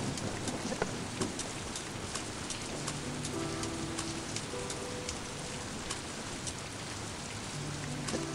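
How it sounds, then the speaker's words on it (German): Rain in the video game Toby: The Secret Mine patters in a dense, steady wash, with scattered sharper drips and faint low tones underneath, no voices. "Hier haben wir jetzt einen interessanten Regenabschnitt."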